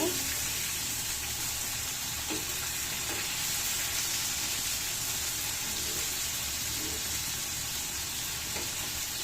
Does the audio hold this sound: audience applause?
no